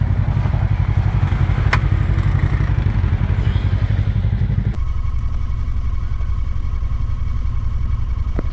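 A Pioneer side-by-side grinds up a rocky West Virginia trail under throttle, its engine rumbling loud and steady from start to finish with clattering from the rough ground, dropping to a lower, smoother drone partway through.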